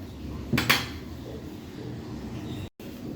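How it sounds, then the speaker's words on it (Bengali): A metal handi cooking pot is picked up and set down, giving a quick pair of clanking knocks early on over a quiet kitchen background, then a brief silence. "এখন আমি যে হাঁড়িটার মধ্যে রান্না করব সেটা নিয়ে নিয়েছি"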